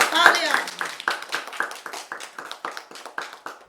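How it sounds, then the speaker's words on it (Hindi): A small group in a Hindi comedy reality show house clapping together, a run of quick, fairly close claps in a loose rhythm after a brief spoken word at the start. "तालियां।"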